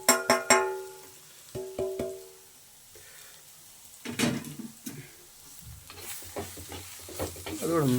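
A spoon scraping and clinking in a frying pan as chili powder, coriander powder and turmeric are stirred in, a few sharp metallic taps up front, then softer sizzling and scraping strokes.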